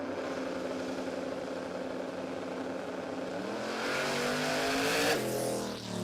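Twin-turbo small-block drag car on radial tyres at a drag racing event, with a loud, steady engine roar that swells and peaks near the end before dropping slightly.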